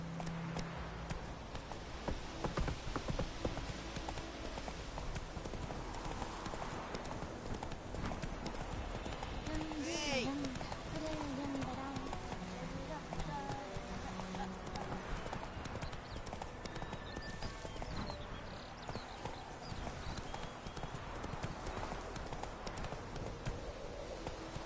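Roach, a horse in The Witcher 3, gallops with a steady run of clip-clop hoofbeats, fairly close, under game ambience, with a brief whinny partway through.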